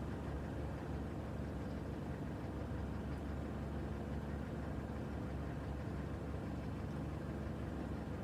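Engine of a 2007 Chrysler PT Cruiser idling, a steady low hum and faint mechanical rumble, heard alone at a low, even level without any revving.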